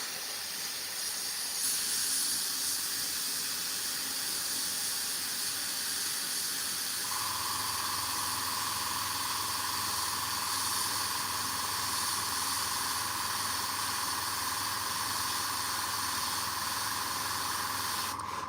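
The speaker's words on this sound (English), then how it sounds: "So you see, I'm spraying a very long time and just releasing a slight amount of paint." Airbrush spraying paint onto a Warhammer miniature, a long, steady hiss with no breaks and a slight shift in tone partway through, close and fairly quiet.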